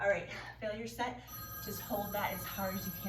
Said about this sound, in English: I'm so sorry about the obnoxious phone.